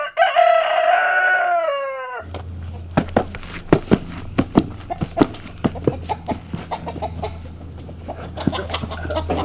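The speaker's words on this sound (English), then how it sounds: "Bunch of chickens." Rooster crowing loudly up close, followed by scattered clucks from a group of chickens and occasional footstep-like thumps over a low background hum.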